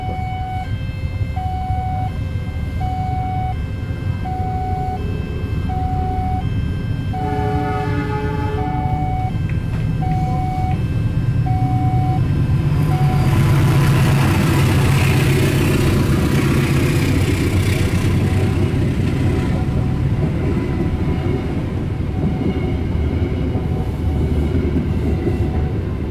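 The Pangrango passenger train, hauled by a CC206 locomotive, passes on the Bogor line. Repeated horn or warning tones come first, then a loud, swelling rumble of wheels and cars rolling by.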